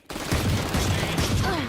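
Rapid gunfire from the video game Valorant, a dense burst of shots crackling close and loud for over a second.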